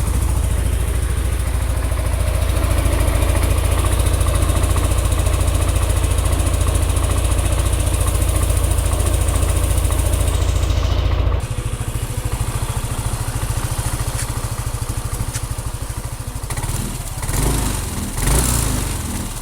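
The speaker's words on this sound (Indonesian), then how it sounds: "Berikut ya suara mesinnya ya." Engine idling with fresh Mesran SAE 40 oil, a steady close low throb and rattle that drops in pitch and loudness around the middle, then runs on more quietly with some background noise.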